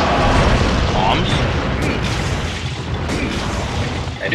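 Bombs go off in the video game Monster Hunter Tri, loud booming blasts among dense in-game noise.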